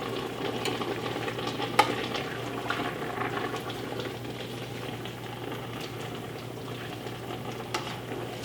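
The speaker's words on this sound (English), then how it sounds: "Now let me stir this up, and this will really give some flavor to these greens." Collard greens stirred in a cooking pot, a steady wet churning and faint bubbling with a low constant hum underneath and an occasional spoon knock against the pot side.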